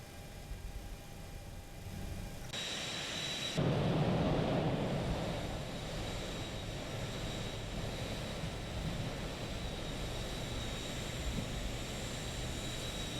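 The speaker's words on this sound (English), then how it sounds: "let's set our takeoff thrust" Boeing 737 engines spool up to takeoff thrust in X-Plane, a steady jet roar that steps up sharply and then holds as a sustained, fairly quiet rumble with a thin high whine.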